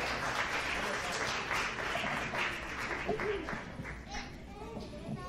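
Audience at a Christmas concert by a children's music program clapping for the young performers, moderate applause that thins out as a voice begins speaking over it.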